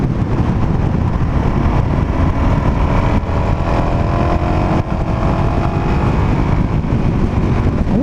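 A Suzuki DRZ400 SM motorcycle cruises steadily down a straight road, its single-cylinder engine droning loudly and continuously with wind rush, holding a fairly even pitch throughout.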